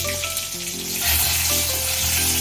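Bay leaves, dried chilli and five-spice seeds sizzle loudly in hot oil, a steady close crackling hiss that swells partway through, with a faint tonal hum in the background and no talk.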